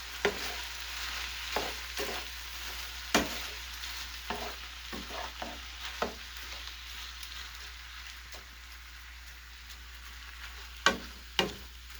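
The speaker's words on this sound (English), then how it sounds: "I'm going to give that a good stir" Frozen cabbage is stirred in a cooking pot: irregular scrapes and knocks of the spoon against the pot over a steady soft sizzle, close and fairly quiet, with no talking.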